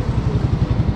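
A new Suzuki Smash Fi 115 motorcycle engine runs steadily at idle nearby with a quiet, muffled exhaust and an even low pulsing throb, no voices over it.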